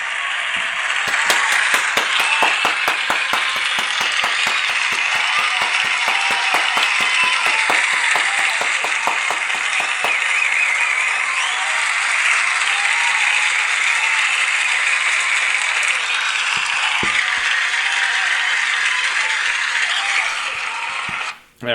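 A crowd applause sound effect: dense clapping that begins with rapid sharp claps, swells into a continuous wash, then tapers and cuts off abruptly at the end.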